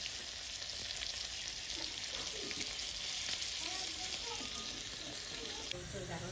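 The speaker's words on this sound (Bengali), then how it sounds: "ওইটাকে হালকা ভেজে নিই" Food lightly frying in a pan after a five-spice tempering, giving a continuous close sizzle with faint stirring clatter underneath.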